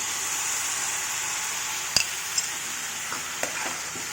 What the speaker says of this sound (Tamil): இந்த ஸ்டேஜில் நம்ம டொமேட்டோ பியூரி ஆட் பண்ணிடலாம்